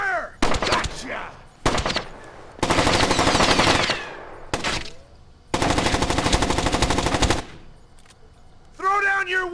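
Bursts of video game gunfire, rapid machine-gun volleys and sustained automatic fusillades, loud and close, separated by brief gaps, with shouted voices and a short whistling squeal at the end.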